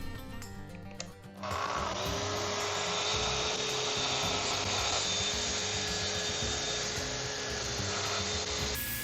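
A table saw rips the full length of a plywood cleat for a French cleat wall, a steady loud whine and rumble starting after a brief lead-in and running unbroken for about seven seconds before cutting off.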